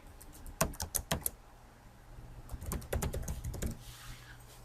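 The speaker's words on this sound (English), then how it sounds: "I'm going to click where it says your name, and I'm going to type in my name." Fingers typing on a computer keyboard nearby, two quick bursts of crisp key clicks separated by a short pause, with no one speaking.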